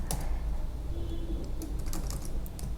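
Rapid, light clicking of computer keyboard keys, several irregular strokes close by and fairly quiet, with no talking.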